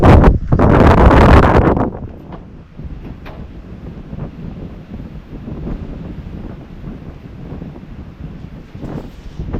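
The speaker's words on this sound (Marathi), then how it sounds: "हवा बघा कसली सुटली हवा एकदम हवाच पण पोचत नसेल एवढी हवा आहे वारा तर वारा भरपूर सुटलाय" Strong wind gusting across a jetty outside Murud Janjira sea fort, a loud buffeting roar in the first two seconds settling into steadier rushing noise with surf-like wash, close to the microphone and free of talk.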